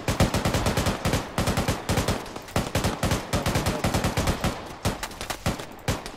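Rapid bursts of heavy automatic gunfire from a tank in the military shooter Arma 3, loud and close, firing in repeated clusters of sharp shots with brief gaps throughout.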